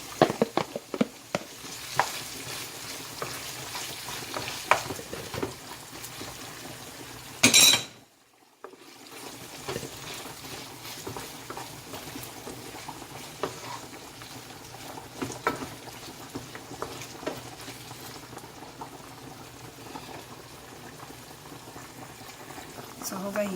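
Saltfish going into a pot of Jamaican saltfish and okra: a steady bubbling boil with light sizzling and occasional stirring clinks, briefly interrupted by a louder splash and a moment of quiet before the simmer resumes.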